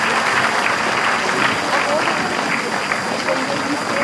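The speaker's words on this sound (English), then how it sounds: "Parents, keep clapping" Parents in a crowded hall keep up loud, steady applause while children file in for a state-level abacus contest in Karnataka, with a little crowd murmur mixed into the clapping.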